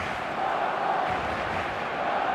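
Roar of a packed stadium crowd in eFootball, a steady, broad wash of cheering and chanting that holds at an even, loud level without breaks.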